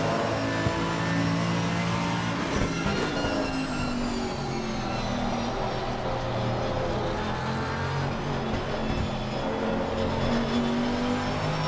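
GT race cars at Spa-Francorchamps in a sim racing broadcast, with a Mercedes among them: a steady, loud engine drone with shifting pitch as cars pass, continuous throughout with no talk over it.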